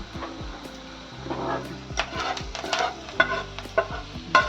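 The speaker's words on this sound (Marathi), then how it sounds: "फ्राय करून घ्यायचा कांदा" Onion frying and being stirred in a pan for stuffed okra, with a steady sizzle under repeated scraping and clattering strokes of a spoon against the metal, close and fairly loud.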